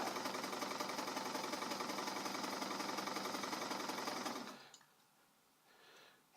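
A zigzag-capable sewing machine runs flat out with a dense, fast mechanical chatter for about four seconds, then abruptly winds down to near silence with faint clicks afterward.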